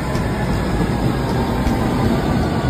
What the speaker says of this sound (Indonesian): ini udah datang si kereta tube-nya